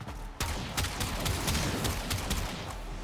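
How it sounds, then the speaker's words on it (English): Rapid bursts of shotgun blasts in a video game with triple shotguns, sharp repeated reports close and loud over continuous game noise, no talking. "I'm wielding triple shotguns right now."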